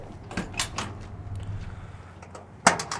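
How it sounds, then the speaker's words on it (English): A door on a 1969 Ford F100 pickup swinging open, a few soft mechanical clicks and muted thumps at close range, with a sharper latch clack near the end over low background hum. "doors open very smoothly"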